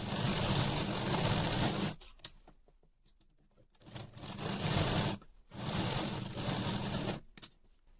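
A sewing machine stitches a kurti, running in three loud, close bursts of rapid whirring separated by quiet pauses.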